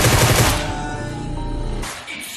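Rapid gunfire in a PUBG-style battle royale game, a loud dense burst of shots for the first half second, then a sustained noisy stretch that cuts off near the end.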